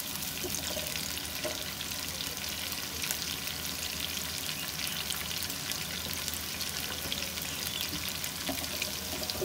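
Onions frying in a pan for a dal keema dish, a dense, continuous sizzle with crackling oil spatter and occasional stirring, steady and close throughout with no voices.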